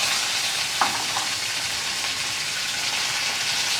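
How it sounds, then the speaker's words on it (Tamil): Loud, continuous sizzling of mustard seeds and urad dal frying in hot oil, with a brief clink of a utensil near the start. "இப்போது தாளிக்கிறதுக்கு கடுகு உளுத்தம் பருப்பு போட்டுட்டு"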